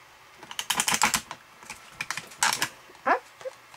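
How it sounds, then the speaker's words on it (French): A paper hole punch perforates a long paper strip while a card is made. Several sharp, close clicks and crunches come in quick bursts, with a short squeak near the end. "je fais ma dernière petite perforation"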